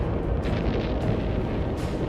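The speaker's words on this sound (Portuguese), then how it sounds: "E testemunharam o poder aterrorizante de uma bomba atômica." A deep, sustained explosive roar of an atomic bomb blast rumbles on for the whole stretch, dense and loud, with brief surges in the hiss above it.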